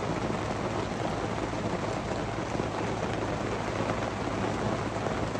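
Steady rain falls in a wet outdoor spot in Missouri turkey-hunting country, a dense, even patter that holds at the same loudness throughout with no voices.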